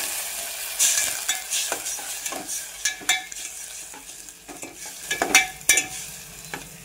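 Onion and coconut-coriander paste with water is stirred in a pan, producing a soft simmering sizzle broken by irregular scraping and clinking strokes of the spoon, close and without talk.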